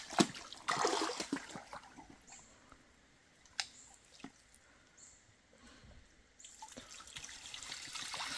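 Water splashing and trickling as a fish trap is washed outdoors, with irregular drips, sloshes and a few sharp knocks, steady and moderately faint throughout.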